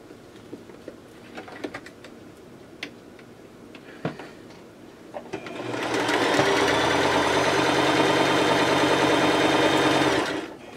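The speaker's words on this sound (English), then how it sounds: "I'm going to go ahead and sew the whole thing together." A sewing machine runs steadily as fabric pieces are stitched together along a pinned seam, a loud close whir lasting about five seconds after some quieter handling clicks and taps.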